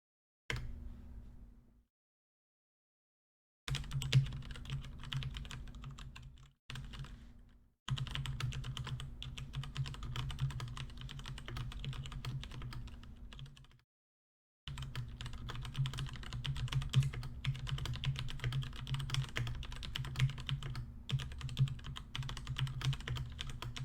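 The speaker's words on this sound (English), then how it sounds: "I'll be giving you a typing test, and you can see exactly what it sounds like." Continuous rapid typing on a budget keyboard, a steady stream of close, clicky keystrokes with a few brief pauses and no talking.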